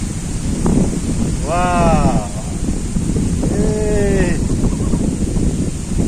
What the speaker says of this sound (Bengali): দেখেন এত পরিমাণে বাতাস, দেখেন কি পরিমাণে বাতাস।